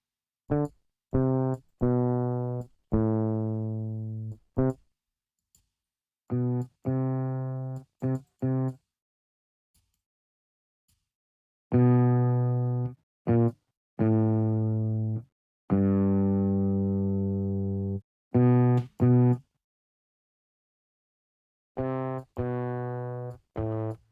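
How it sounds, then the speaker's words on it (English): Bursts of harmonically rich, distorted tones from iZotope/Native Instruments Trash plugin guitar and bass presets sound one after another with brief silences between, each a sustained buzzing note switching character from preset to preset. "And depending on the convolution and the distortion, gives you different types of sound."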